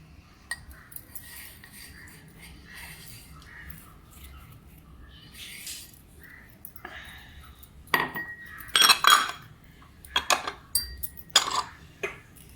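Fennel seeds and cumin pounded for a mixed-vegetable pickle: quiet scraping at first, then sharp metallic clinks and knocks in irregular bursts, close and fairly loud, with crows cawing faintly in the background.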